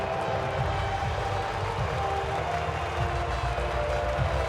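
A steady, distant crowd roar and cheering celebrates a race victory in the F1 23 racing game, sustained without clear breaks and with no talk on top.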